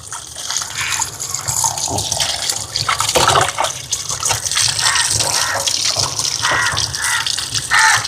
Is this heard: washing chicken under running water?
yes